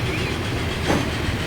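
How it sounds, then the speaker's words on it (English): A train rolls past in Transport Fever 2, a steady, loud rumble of wheels and carriages with a slight swell midway, heard alone. "There comes one of the standard trains."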